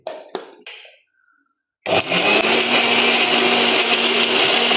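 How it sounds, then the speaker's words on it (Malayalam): A kitchen blender whirs steadily at high speed, grinding a milkshake with cardamom pod after a few short bumps and a brief pause, loud and close throughout. "അപ്പം നമുക്കിത് നന്നാക്കി അരച്ചെടുക്കുക"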